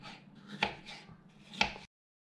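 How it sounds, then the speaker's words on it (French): A knife chops small pears into cubes on a cutting board, close and quiet, with soft slicing strokes and two sharper knocks about a second apart. "on va couper les petites poires en petits cubes"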